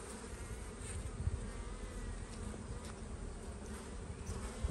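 Honeybees at a backyard apiary hive, buzzing steadily in a dense, continuous drone from close by while a super is being added, with no talking.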